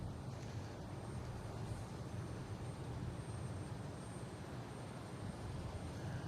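Airplanes at Boston Logan International Airport, a steady low engine rumble and roar from aircraft at a distance, continuous with no voices.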